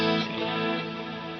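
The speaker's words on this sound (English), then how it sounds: "That's kind of the church guitar guy reverb." An electric guitar played through a church-style reverb effect, a single sustained chord ringing out with a lush, washy tail that slowly decays over a bit more than a second.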